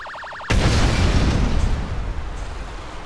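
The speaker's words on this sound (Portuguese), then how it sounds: "as novas explosões aqui, ó, uma granada, pra gente ver como é que tá as explosões também" A grenade goes off in GTA San Andreas with a GTA V sound mod, one sudden loud blast after a brief quiet moment, followed by a long rumbling, crackling decay.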